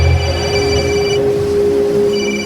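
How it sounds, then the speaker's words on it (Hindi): A phone rings with a steady, loud electronic tone, sustained pitched notes held over a dense background hum, with no talking. "उसी समय समीर का फोन बज पड़ा।"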